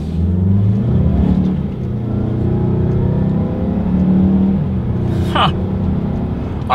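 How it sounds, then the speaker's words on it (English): Interior of a 2020 Mazda CX-5 accelerating from a standstill: a steady engine drone and road rumble build continuously, with a brief higher whir near the end and no speech. "let's do our first test and let's test out the acceleration here on the CX-5"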